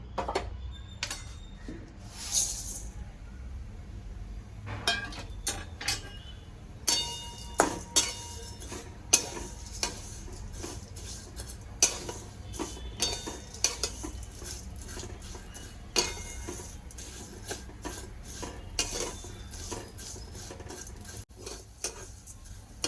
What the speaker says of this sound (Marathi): शेवय आता आपण मंद आचेवर भाजून घेतोय